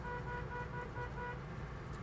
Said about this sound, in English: horn